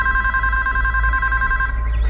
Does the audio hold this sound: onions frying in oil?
no